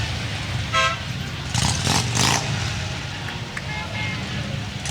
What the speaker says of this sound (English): the rumble of the Harleys